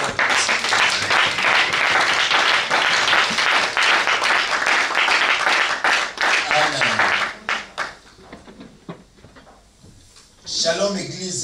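A church congregation claps loudly for several seconds in a dense wash of applause, then it thins and fades out, with a voice speaking over the end.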